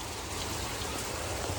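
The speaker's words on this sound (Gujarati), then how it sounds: "બહુ વરસાદ પડ્યો આ ધોધમાં." Heavy rain pours down at a waterfall in strong wind, a dense, loud, unbroken roar of falling water with no voices.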